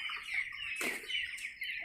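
Chickens at a poultry shop in Oman give a short burst of quiet clucking and squawks, with a brief flutter midway, heard faintly over low background noise.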